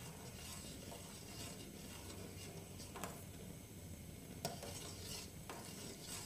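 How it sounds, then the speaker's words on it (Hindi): A spoon stirring a custard mixture in a pan for shahi toast, soft continuous scraping and swishing with a few sharper clinks of metal against the pan, faint and close, no speech. "इसको साथ साथ चम्मच चलाते रहेंगे ताकि इसमें गुठलियाँ ना बने"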